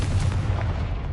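A Confringo spell exploding in a video game, producing a brief loud boom with a deep rumble that fills the whole short moment.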